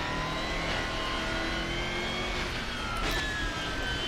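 A Ferrari race car engine in the rFactor 2 racing simulator drones at steady high revs, with whining tones that climb and shift through the gears, a continuous mechanical roar at moderate level with no talk.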